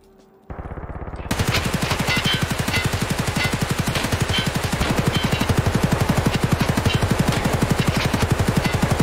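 Sustained automatic gunfire from a 95-round magazine in Escape from Tarkov Arena, a long unbroken stream of rapid shots that starts abruptly after a brief pause and holds loud and steady to the end.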